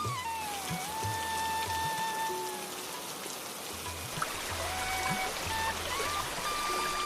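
Soft, steady patter of light rain with a running-water wash, while faint tonal background sounds drift in and out.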